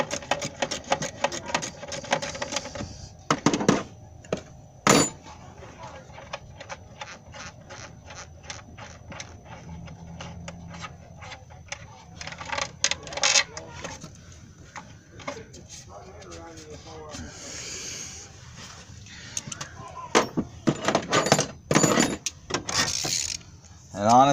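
Socket and wrench work on an intake bracket bolt of a 2011 Nissan Cube clicks and ratchets in bursts of rapid metallic ticks, with quieter gaps between, close and moderately loud over a faint hum.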